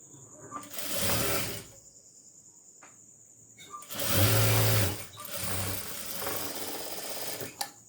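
A sewing machine runs in three short bursts while stitching a fabric strip for a tailoring job, a steady close whirring hum with brief pauses between runs.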